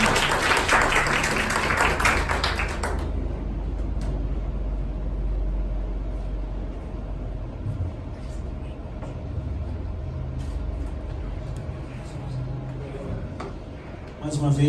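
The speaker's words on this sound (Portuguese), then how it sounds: "Uma salva de palmas para eles, vamos receber com carinho." Church audience at a Saturday service applauding a couple about to deliver a message, a loud burst of many hands in the first few seconds, then a lower, sustained crowd murmur and room noise for the rest.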